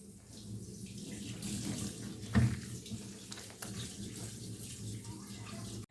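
Warm water pours from a kitchen tap into dough being kneaded by hand, a steady faint trickle and splash with a brief louder clunk midway.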